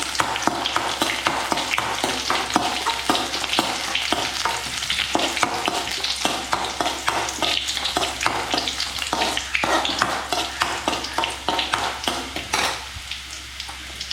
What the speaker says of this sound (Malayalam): ഇനി അതിട്ട് നമുക്കൊന്ന് ഇളക്കി കൊടുക്കാം.